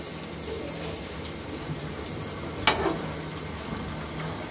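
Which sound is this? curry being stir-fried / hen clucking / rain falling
curry being stir-fried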